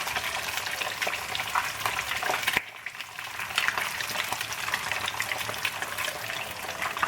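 Steady, loud sizzling and crackling of snakeskin gourami fish deep frying in hot oil, with a brief dip partway through before the bubbling resumes.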